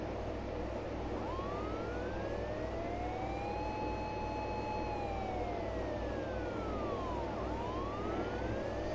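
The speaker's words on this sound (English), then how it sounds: "Sirens?" A single police siren wails slowly up and down, rising and falling in long sweeps at moderate distance over a steady low rumble of traffic.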